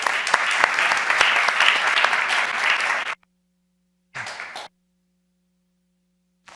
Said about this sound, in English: Let's give a round of applause for Tara.